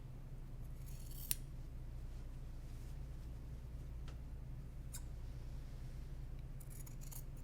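Scissors snip once sharply and then make a few faint cuts while trimming a quarter inch from a stitched fabric edge on a cross stitch mug rug, quiet and close over a low steady hum.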